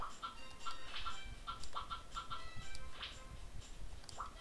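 Chickens clucking in the Harvest Moon 64 video game, repeated short bright clucks in a quick irregular rhythm over a steady low background hum, with no talk.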